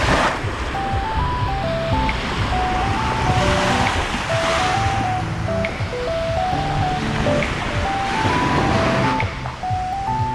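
Sea waves wash steadily onto a beach in Mexico, a continuous loud roar of surf with wind buffeting the microphone and faint music running underneath throughout.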